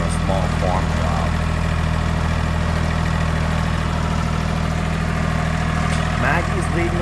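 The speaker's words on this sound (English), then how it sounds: "Hydrostatic is the way to go on a tractor, especially for a small farm job" A hydrostatic tractor from a farming video game drives along with a steady, loud engine drone and low hum, occasional faint clanks and chirps over it, and a voice talking briefly.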